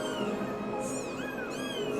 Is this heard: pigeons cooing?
no